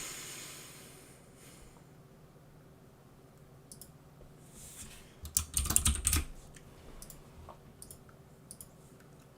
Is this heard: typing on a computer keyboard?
yes